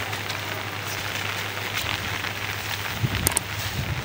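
Rain falling on a cattle farm where grass is cut for the cows, a steady hiss of drops on surfaces with a few sharper taps, close and even throughout.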